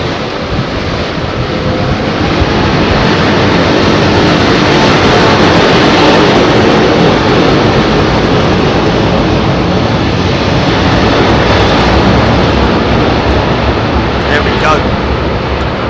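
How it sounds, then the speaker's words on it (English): A heavy airliner powered by Trent 900 engines departs London Heathrow's runway 27R, producing a loud, steady broadband jet roar that holds for the whole stretch, roughened by wind buffeting the microphone. "Somebody just mentioning that the Trent 9, which is powering this aircraft, has a 116-inch outer diameter"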